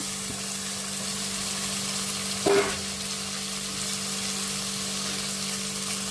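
Ginger garlic paste and tomatoes frying in a pan: a continuous close sizzle with one brief louder burst as ingredients are stirred or added, no talking.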